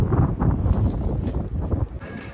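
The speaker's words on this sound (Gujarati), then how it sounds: "અત્યારે બહુ મસ્તીનો ઠંડો ઠંડો પવન આવે છે" Cool wind gusts steadily across a seaside shore near a temple, a continuous broadband rush buffeting the microphone with no voices.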